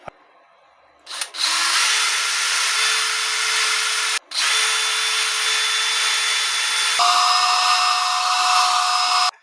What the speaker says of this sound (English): drill out these holes so that the screws are not threading in there